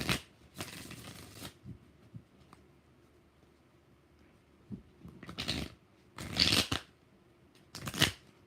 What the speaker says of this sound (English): We're going to do 4 shuffles for Intuitive.